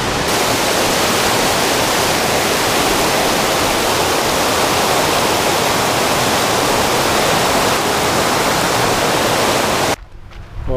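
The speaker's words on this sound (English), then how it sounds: "gorgeous little waterfall." Steady rushing roar of a small waterfall in Glen Canyon Regional Park, Kelowna, loud and close, continuous broadband splashing that cuts off abruptly near the end.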